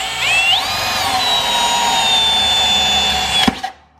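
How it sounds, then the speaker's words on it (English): A power drill whines steadily at close range while drilling holes in a carbon rear subframe for a Ducati Panigale V4, its pitch rising as it spins up, then cuts off abruptly with a short clatter. "Alright, we got all the holes drilled."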